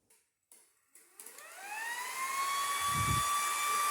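A small RS-360 electric motor driving a 14-blade fan impeller spins up from short bursts into a steady high whine, whirring loudly like a little leaf blower with bright tonal hum and a brief low thump near the end.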